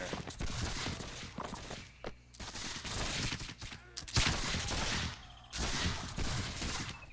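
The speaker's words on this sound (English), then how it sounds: "Sounds like someone got a Gatling gun." Rapid gunfire from a Gatling gun in a Caribbean naval-era early-access video game, dense bursts of shots and fusillades filling the scene, loud and sustained with short gaps.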